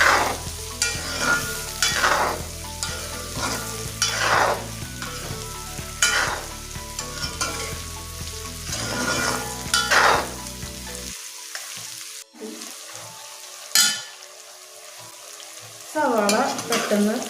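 Sliced onions sautéing for chicken curry in a pan, with loud repeated scraping strokes of a spatula stirring over a sizzle, then a quieter stretch with a few isolated clanks and scrapes.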